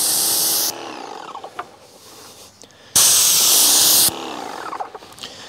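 Polyurethane finish sprayed from an aerosol can onto wooden stair treads for a floating staircase: two loud, steady hissing bursts, each lasting about a second, with quieter rubbing and handling noise in between.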